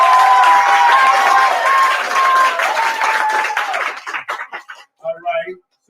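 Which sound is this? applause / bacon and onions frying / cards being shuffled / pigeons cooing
applause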